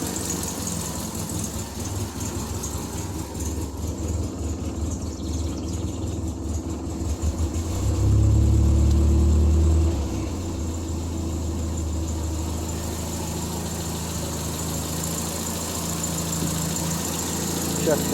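A Triumph Spitfire engine, started for the first time in months after brake line and exhaust repairs, idles with a steady low rumble and mild vibration, growing briefly louder partway through before settling back.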